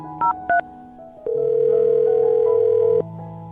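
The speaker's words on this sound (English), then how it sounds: "Dial this phone number right now." A telephone number is dialed on a radio call-in: two short touch-tone beeps, a brief pause, then a steady dial or ringback tone holding for about two seconds before it cuts off, with no talk.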